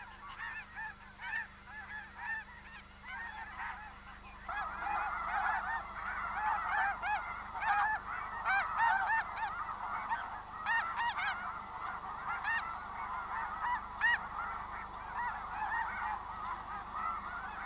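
A large flock of geese honks continuously at a distance, many overlapping calls swelling after a quieter start, with no voices.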